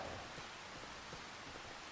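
Rain in the farming game Farming Simulator 25, a soft, constant hiss of falling drops with no breaks, heard faintly and alone.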